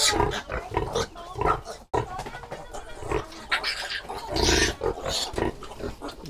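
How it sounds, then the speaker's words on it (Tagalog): Piglets grunt and squeal continuously and close by in a pen, a dense, noisy stream of overlapping animal calls. "Wow, ganda ng mga anak ng baboy."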